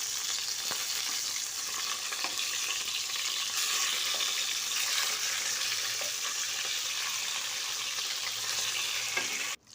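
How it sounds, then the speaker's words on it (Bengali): Tilapia fish pieces fry in hot oil in a pan with a loud, continuous sizzle and crackle that holds steady throughout, with no voices over it. "এই তো আমি একটা একটা করে মাছ দিয়ে দিচ্ছি। তারপর মাছগুলো ভেজে নেব।"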